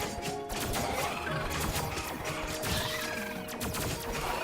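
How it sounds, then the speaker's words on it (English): A large monster dies in the dungeon-crawler game Dungeon of the Endless, letting out loud, rough, continuous shrieking cries over crashing game effects for several seconds, with no talking. "Looks like that was the sound of the large one dying"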